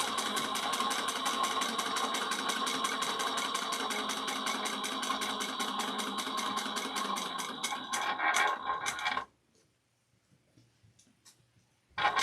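A sewing machine stitches a handbag in a fast, even run of mechanical clicks and whirring. It stops abruptly after about nine seconds, leaving near silence, then starts again briefly at the very end.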